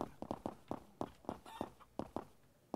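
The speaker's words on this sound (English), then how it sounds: "I think we need to clobber this chicken to death." A chicken in a video game clucking repeatedly, short close clucks in an irregular rhythm, fairly quiet, with no talking over them.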